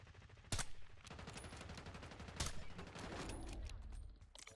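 Bursts of automatic gunfire ring out in the video game Call of Duty Warzone, with loud, rapid volleys and two sharp, heavy shots punctuating a continuous barrage.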